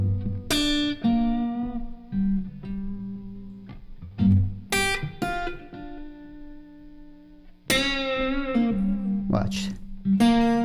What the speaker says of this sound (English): Now I'm going to play the blues, and I'm only going to play the chord tones